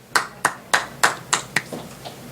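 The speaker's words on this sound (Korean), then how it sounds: "박수 한번 쳐주세요" Hands clap several times in a slow, evenly spaced rhythm, close and sharp, the last few claps fading softer.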